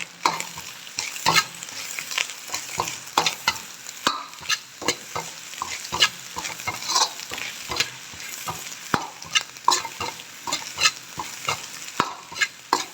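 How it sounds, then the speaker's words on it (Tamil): Chicken for chicken rice is sautéed in a hot pan: a rapid run of loud metallic spatula scrapes and clanks over a continuous sizzle, close up and without talk. "சிக்கன் சேர்த்து நல்லா வதக்கி விடுங்க"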